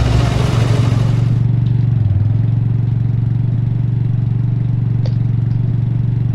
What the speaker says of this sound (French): Allez, on redémarre le moteur.